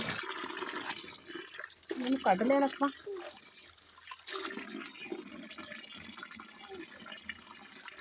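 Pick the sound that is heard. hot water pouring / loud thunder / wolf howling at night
hot water pouring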